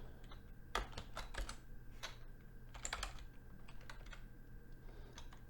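A computer keyboard being typed on while writing code: quiet, close, irregular bursts of clicking keystrokes with short pauses between them, and no talking.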